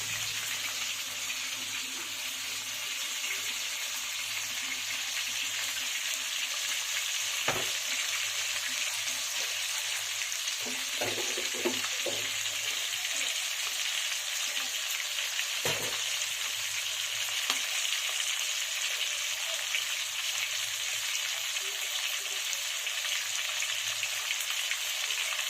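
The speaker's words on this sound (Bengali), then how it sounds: "তখন মাছ ভাজা হোক।" Steady, close sizzle of singi and shol fish frying in oil in a pan in a village kitchen, running continuously throughout with a few brief clinks and stirs, and no talk.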